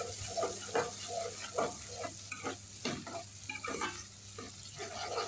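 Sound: onions frying in a pan

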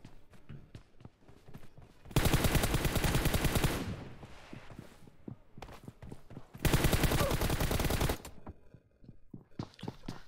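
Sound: gunfire from crouching and firing without scope in a video game

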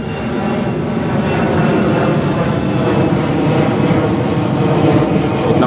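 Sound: loud airplane passing overhead

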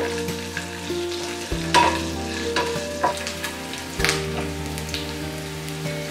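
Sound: green chili and curry leaves sautéing in hot oil

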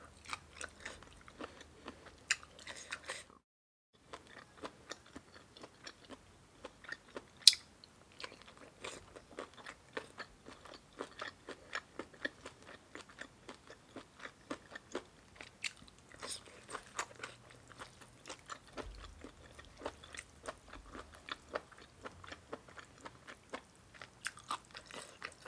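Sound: chewing spicy Thai papaya salad with egg-filled squid

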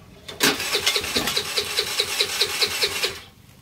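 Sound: cheap scooter engine sputtering while trying to start

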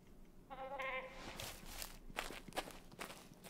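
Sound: goats bleating in Way of the Hunter video game

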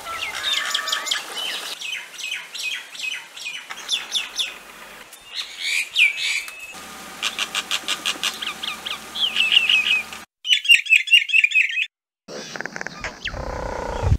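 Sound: common myna calls and songs

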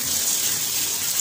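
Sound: rainwater gushing

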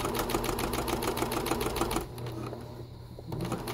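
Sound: sewing machine stitching fabric for a tote bag

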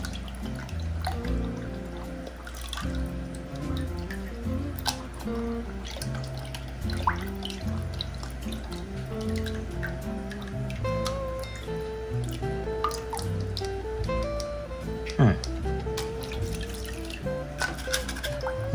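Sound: rinsing an aquarium filter with running water

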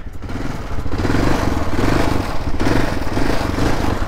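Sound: 1991 Suzuki DR 650 motorcycle engine starting

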